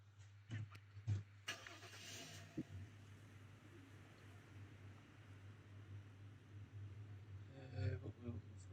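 A car engine cranks and starts in the video game Flashing Lights, then settles into a steady low idle hum that runs throughout, with a few sharp transients near the start.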